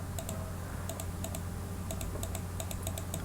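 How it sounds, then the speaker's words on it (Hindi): Computer mouse left-clicking while working in CorelDRAW: sharp, crisp clicks in small clusters of two and three spread across a few seconds, close and fairly quiet over a steady low hum, with no voices. "देख सकते हैं मैं लेफ़्ट क्लिक कर रहा हूँ"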